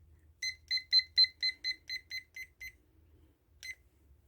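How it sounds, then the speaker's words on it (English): Kitchen timer alarm going off in a kitchen, about ten quick bright beeps in a steady rhythm, then a pause and one last beep, close and clear with no talking. "I'm going to go ahead and set my timer for 10 minutes."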